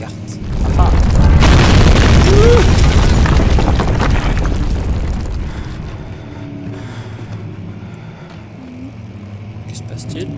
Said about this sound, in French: Que se passe-t-il? Oh, éboulement.